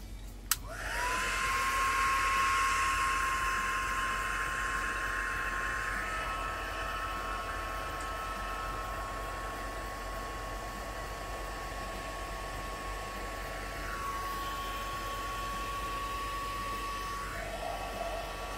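A hot-air heat tool blows steadily while drying a mixed media craft tag, a loud constant whooshing hiss with a high whine that runs for the whole stretch, shifting slightly as it is moved.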